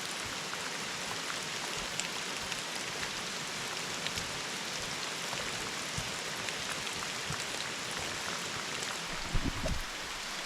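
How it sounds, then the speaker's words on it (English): Steady rain pours down continuously outdoors on a hiking trail, a dense, even hiss of drops striking surfaces nearby, with no voices and only a brief low thump near the end. "Get out of the rain for a moment."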